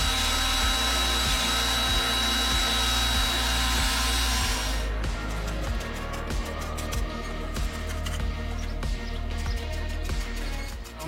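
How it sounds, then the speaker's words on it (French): Power sanding of surface rust on the sheet metal of a Toyota Hiace 4x4 van, a steady loud grinding whine that shifts to rapid rhythmic pulsing halfway through, heard alone up close. "Donc on va bien la poncer."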